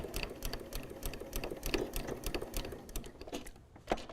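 A sewing machine topstitches through two layers of fabric on a spring-themed cloth napkin, its needle chattering in a rapid, steady rhythm close by before slowing and stopping near the end.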